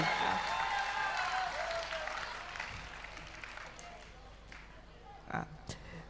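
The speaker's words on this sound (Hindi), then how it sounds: "एक बार जोरदार तालियां" An audience at a Jain temple pratishtha festival claps loudly at first, the crowd applause gradually thinning and fading, then a few scattered claps and knocks near the end.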